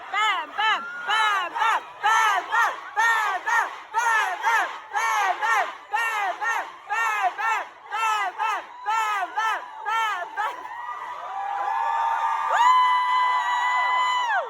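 A large concert crowd at a show in Frankfurt chants the performer's name in loud, rhythmic, repeated bursts, then breaks into sustained cheering and screaming toward the end.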